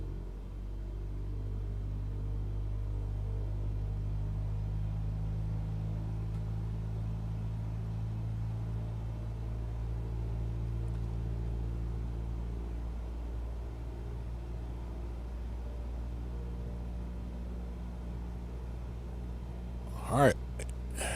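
A single-engine aircraft in Microsoft Flight Simulator 2020 drones steadily through a run-up toward 1800 RPM, a continuous low engine hum with little change, and a brief sharp sound near the end.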